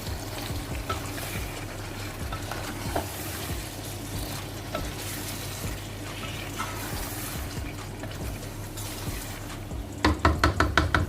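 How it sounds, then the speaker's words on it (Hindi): Turnips sautéing in mutton curry masala sizzle softly and steadily in a pan, with occasional stirring knocks and a run of quick scraping taps near the end. "शलजम ऐड करने के बाद हम इसको तकरीबन 2 मिनट तक अच्छे से भून लेते हैं।"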